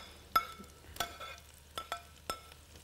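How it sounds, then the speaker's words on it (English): Onions frying in hot oil give a faint steady sizzle, broken by a few sharp clinks of a utensil against the pan at irregular intervals. "so you're frying onions now"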